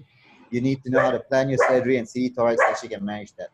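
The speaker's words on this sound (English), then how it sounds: "that's my dog." A pet dog barks at home in the background, brief yips half-buried under a man's steady, close-miked lecture.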